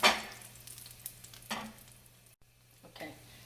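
Garlic and hot chili flakes fry in meat drippings in a pan after searing beef steak, making a soft sizzle with a few brief stirring scrapes over a faint low hum.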